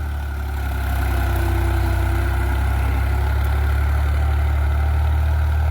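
A New Holland 3630 4x4 Super Plus tractor engine runs close by in a steady, heavy low rumble that swells slightly after the first second and then holds an even idle.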